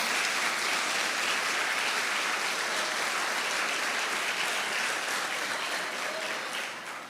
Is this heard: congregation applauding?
yes